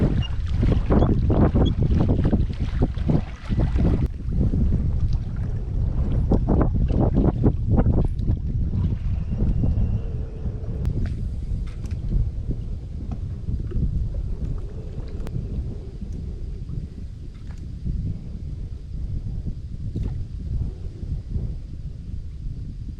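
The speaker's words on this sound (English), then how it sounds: "it's one of those windy fall days" Strong wind gusting across a mountain lake on a fall day, a loud continuous low roar buffeting the microphone, with heavier rumbling bursts early on that ease into a steadier rush.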